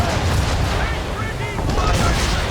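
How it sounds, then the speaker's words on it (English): Ship cannons fire in rapid succession during a naval battle in Assassin's Creed III, a dense, continuous roar of booming blasts with splashing and rumble, loud and close throughout. "Oh, we have to get a lot closer if I'm going to use the big cannons."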